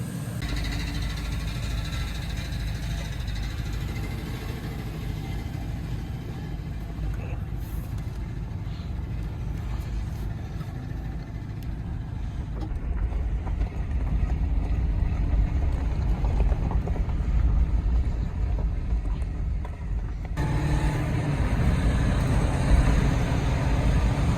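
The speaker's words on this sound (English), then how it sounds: "Now you still can kind of hear the noise in the transmission." An old Lincoln car's drivetrain rumbles and whines continuously while moving, a low droning engine and noisy transmission that grows slightly heavier midway.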